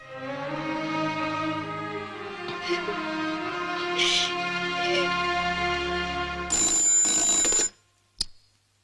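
A telephone rings with a sustained, buzzing bell tone that cuts off abruptly near the end, leaving a brief click, loud and close in a dramatic film scene.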